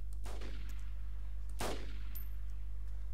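Gunfire in the video game DayZ: two sharp, broadband shots roughly a second and a half apart, the second louder, over a steady low electrical hum with no talk.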